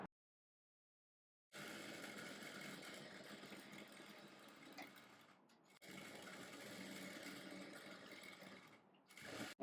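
A sewing machine stitches three sides of a blouse in two long steady runs of close, even motor whir, separated by a brief pause, with no talk.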